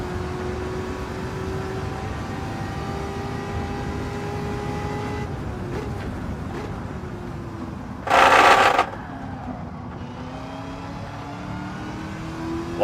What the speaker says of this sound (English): Lost some time skidding the tires there.